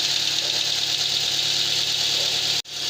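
A 2015 Mitsubishi Lancer engine with suspected head gasket trouble runs at a steady, loud, close idle with an even drone and no talk, cutting out briefly for a moment near the end.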